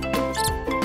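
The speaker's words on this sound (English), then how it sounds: "Mouse." A small mouse gives quick, high squeaks in a short burst of two or three bright chirps, close and clear with nothing else behind them.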